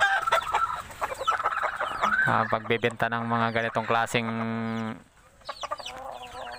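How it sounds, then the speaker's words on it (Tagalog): Chickens cluck and a rooster crows at a market for selling fighting cocks, the calls rising over someone speaking, with a sustained harmonic stretch in the middle. "manok"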